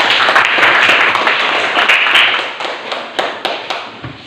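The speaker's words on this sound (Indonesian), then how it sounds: "Tepuk tangan." Students in a classroom break into applause, a dense burst of hand clapping that thins into a few scattered claps toward the end.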